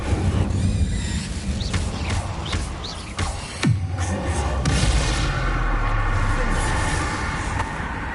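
Casting the Incendio fire spell in the Hogwarts Legacy video game, inside a haunted tomb: whooshing, rising swishes and a sharp crack midway, over a steady rumbling background.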